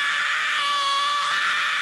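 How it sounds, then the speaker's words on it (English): A harsh, extreme deathcore-style vocal scream bent up from a sung note, held loud and steady for about two seconds with no other sound. "from a note to a scream."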